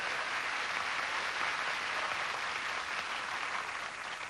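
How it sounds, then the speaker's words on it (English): Steady, dense applause from a game-show studio audience of married men, sustained at an even, fairly loud level throughout with no talk over it. "Everybody's applauding down there except Bryce."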